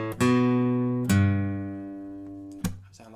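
The opening guitar notes of a song ring out one after another, each a clear plucked tone that sustains and fades before the next, close and alone.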